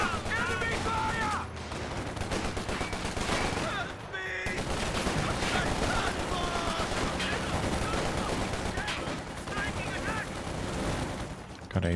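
Anti-tank gun fire and battle noise from Company of Heroes 2, a dense, continuous clatter of shots and explosions layered under music and game effects, loud throughout with a brief dip midway.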